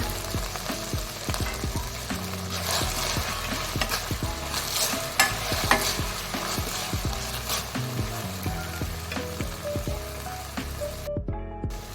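A spoon scrapes and knocks repeatedly through a gobi manchurian mixture in a pan, with steady stirring clatter over a soft sizzle, close and fairly loud, no talking.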